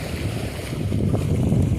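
Cold wind gusts across a sandy beach at the Shiyal Bet island port in Gujarat, a loud, constant low rumble buffeting the microphone, with a faint wash of sea behind it.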